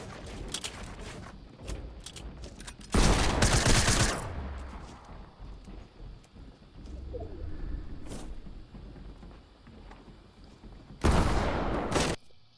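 Gunfire in Fortnite, a solo squads match fought from high ground: sustained rapid shooting with two loud bursts of fire standing out over a continuous background of distant shots and game ambience.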